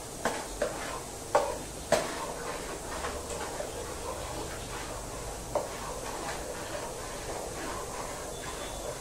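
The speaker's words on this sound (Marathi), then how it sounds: "बघा मी छान हलवून घेते." Pav bhaji vegetable mixture being stirred in a pan as it sizzles and comes to a boil, with a soft continuous frying hiss and a few sharp scraping clicks of the spoon against the pan.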